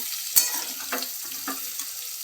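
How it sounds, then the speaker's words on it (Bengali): Stir-fried vegetables with fried egg, shrimp and chicken sizzle in a pan, with a sharp spatula scrape followed by several softer stirring strokes over a steady, close frying hiss. "সবজিটা ভাজা হয়ে গেছে। এবার এর মধ্যে আমি ভেজে রাখা ডিম আর চিংড়ি এবং চিকেনটা দিয়ে দেব। দিয়ে একেবারে মিশিয়ে নেব।"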